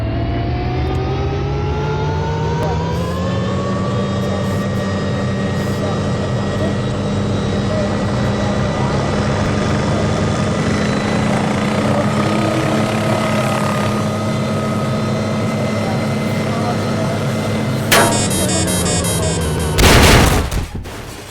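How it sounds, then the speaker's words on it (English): Loud, steady aircraft engine drone in Garry's Mod with a rising whine, continuous throughout, ending in a few sharp bursts of noise. "here's a quick flight test with the NPC, and the audio is kind of loud"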